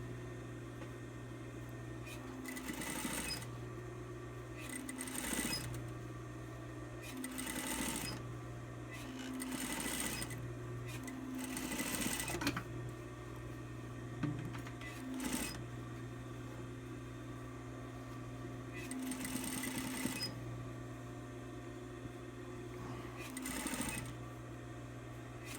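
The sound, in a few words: sewing machine sewing a top stitch on fabric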